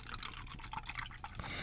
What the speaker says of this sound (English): pour it in the cup.